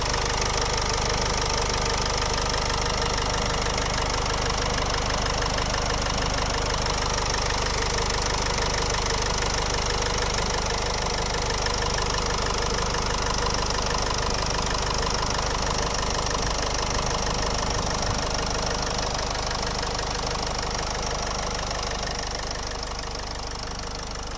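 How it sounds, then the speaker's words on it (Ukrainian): A 2012 Nissan X-Trail T31 with the 2.0 dCi diesel engine idles steadily, a close, continuous clattering diesel rumble with a regular knock, heard alone with no talk. "Ось робота двигуна."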